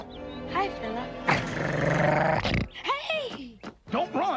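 A dog growls and snarls in bursts, one long rough growl followed by shorter vocal snaps, with people talking around it.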